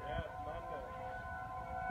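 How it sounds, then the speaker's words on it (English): A wailing tornado warning siren drones faintly in the distance beneath a person talking. "Now you're hearing the tornado sirens going off."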